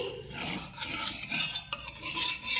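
A spoonful of asafoetida is stirred in a pan over a low flame, with uneven scraping and clinking of a utensil against metal and a soft sizzle beneath, close and fairly quiet.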